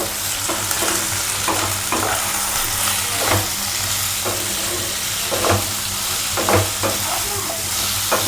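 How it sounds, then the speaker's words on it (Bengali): Potatoes fry in hot oil with a constant loud sizzle while a spatula stirs them in the pan, giving repeated scraping taps roughly every second over the hiss. "নুন দিয়ে আলুটা প্রায় ভাজা হয়ে গেছে"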